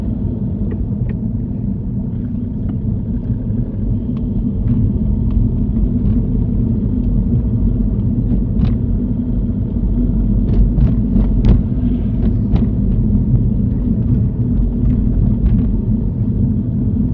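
A car rolling along during a mock driving test in Sunderland, a steady low engine and road rumble throughout with a few faint clicks and no talk.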